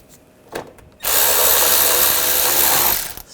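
A power drill or driver runs steadily for about two seconds, tightening bolts on the upper grille of a 2009-2010 BMW 535i xDrive, preceded by a brief knock; loud and close, with no talk.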